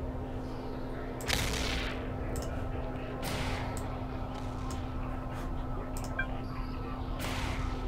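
Ships firing weapons in a space battle in Eve Online, with repeated sharp blasts and cracks at irregular intervals over a steady low hum and noisy background.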